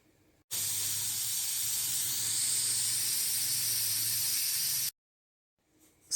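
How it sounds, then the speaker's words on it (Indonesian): A pressure cooker steaming milkfish hisses in one loud, steady, broadband jet of escaping steam lasting several seconds, then cuts off abruptly. "sejak pancinya bunyi atau mendesis di bagian atas"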